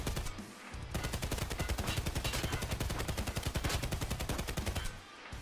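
Sustained rapid automatic fire from an FAL rifle in a shooter video game, a steady dense burst of shots lasting about four seconds with no talk over it.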